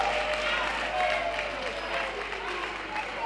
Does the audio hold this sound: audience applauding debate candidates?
yes